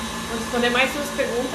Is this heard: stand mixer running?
yes